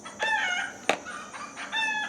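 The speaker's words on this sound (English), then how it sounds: "the chicken commentary in the background" Chickens cluck and crow in the background of a garden where tomato plants are being cloned into pots, their calls steady and moderately distant with no talk over them.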